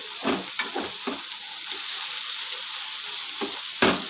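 Chopped onion frying in a pan for egg pasta, a steady close sizzle with a few soft scrapes of stirring near the start and end.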